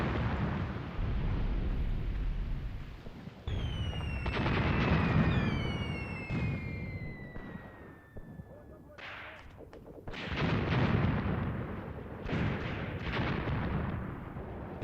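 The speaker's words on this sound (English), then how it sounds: "I'm actually surprised that the Soviet artillery hasn't started targeting my heavy weapons" Soviet artillery fire in the WWII tactics video game Graviteam Tactics: Mius Front, heavy booming blasts and rumbling impacts with whistling incoming shells, loud and continuous across the battle.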